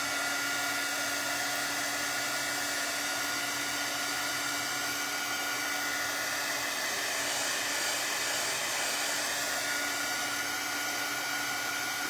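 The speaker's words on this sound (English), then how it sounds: "I'm gonna hit this with a dryer real quick" Hair dryer blowing steadily on thick dots of paint, a loud, close, continuous whine with a constant hum and no talking.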